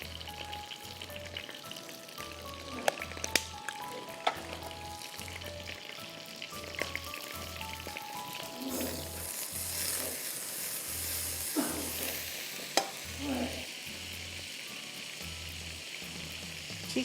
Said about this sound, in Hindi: अब हमें इसमें डालना है सफ़ेद ज़ीरा साबुत। ज़रा सा वो कड़कड़ाएगा